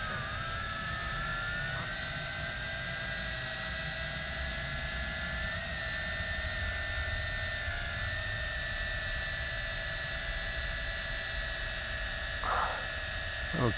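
Tarantula X6 camera drone with a camera mount flying overhead outdoors, a steady high-pitched buzzing whine of rotors, moderately distant and continuous, no talking.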